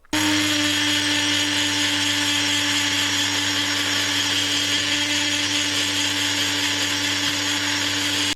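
A power tool grinds out the inside of Malossi 103 scooter crankcases, producing a loud, continuous whining drone with a steady hum that runs unbroken and close for the whole stretch.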